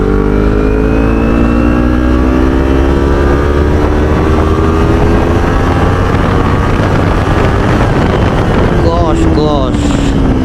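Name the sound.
Kawasaki Ninja 300 motorcycle revving with Akrapovic slip-on exhaust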